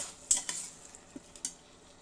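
A few faint metallic clinks and scrapes of a spoon stirring vegetable stems and potatoes with spices in a pan, in a quiet kitchen, irregular and soft.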